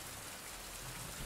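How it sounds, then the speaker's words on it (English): Steady rain falls in a dense, even hiss with no breaks, moderately loud and without any voices over it. "of course it's raining now"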